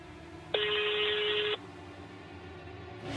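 A single steady electronic telephone ring tone lasting about a second, clear and close, over faint background hum with no voices.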